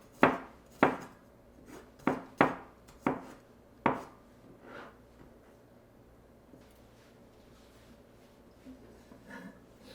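A knife minces garlic on a board in a quick run of sharp strikes, then slows to a few softer taps and scrapes, close up with a faint background hum.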